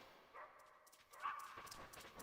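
A dog in the Metal Gear Solid game gives a few faint, thin barks and yelps in quick succession, distant and quiet over a soft background.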